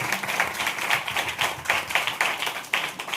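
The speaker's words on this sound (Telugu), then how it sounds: "గట్టిగా చప్పట్లు కొడతాం." A group of children claps together in a quick, even rhythm of sharp, loud claps, close by and with no talk over it.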